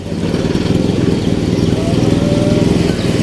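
A motorcycle engine runs steadily and loudly up close, its low pulsing rumble continuous throughout, near an L300 van under repair, with no other sounds standing out.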